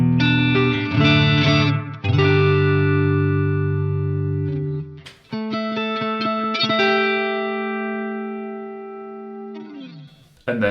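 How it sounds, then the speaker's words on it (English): Electric guitar chords run through an EHX Stereo Electric Mistress flanger at a slow rate with depth at half, sustained ringing chords with a gentle sweeping swirl, loud and close with brief gaps between strums. "we'll start with a nice low rate, and to start off with we'll just leave the depth at 12 o'clock"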